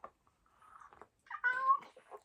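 A house cat meows a few times at close range, short soft chirps building to a longer, louder meow near the end, in a quiet room.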